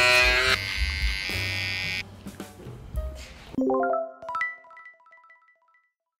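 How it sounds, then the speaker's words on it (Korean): An electric razor shaving hair at a hair salon buzzes steadily and close for about two seconds, then stops and gives way to softer scattered sounds and faint high tones. "쉐이빙 면도."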